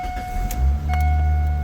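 Rebuilt Ford Focus engine cranking and catching: a low rumbling starter and engine surge that settles into a steady loud idle hum, with a faint tonal whine and a couple of small clicks, close by and without speech.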